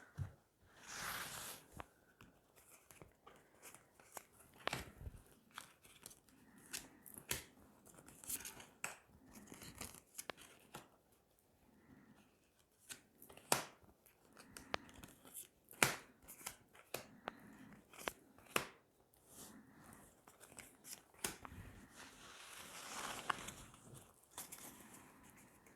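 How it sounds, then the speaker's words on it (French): Oracle cards are shuffled and drawn close up, a quiet run of papery riffles, flicks and soft slaps in uneven bursts with short gaps. "Allez, on va tirer 9 cartes."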